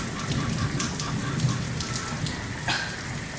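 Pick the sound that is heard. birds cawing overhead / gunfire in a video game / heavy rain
heavy rain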